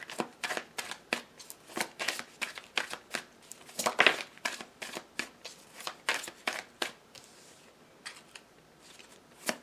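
Tarot cards being shuffled and drawn by hand, a steady series of crisp riffling and sliding card sounds, close and fairly quiet, repeating in quick bursts for several seconds with no talking.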